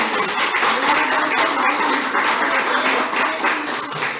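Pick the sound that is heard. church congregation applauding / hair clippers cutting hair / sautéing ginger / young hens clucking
church congregation applauding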